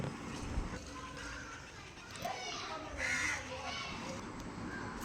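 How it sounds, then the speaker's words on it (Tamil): Faint high-pitched chirping and begging calls from bulbul chicks rise over a steady outdoor background, with a voice speaking nearby. "அதுங்க சாப்பாடுக்காக எப்படி அவங்க அம்மா அப்பா கிட்ட கேட்குது பாருங்களேன்"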